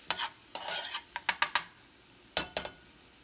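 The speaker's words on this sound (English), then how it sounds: "Put in our celery. Right. Okay, let this saute down a little bit." Chopped celery sautés in a pot with a spoon stirring it, a quiet bed of sizzle broken by several sharp scraping and clinking strokes against the pot, some close together and others spaced apart.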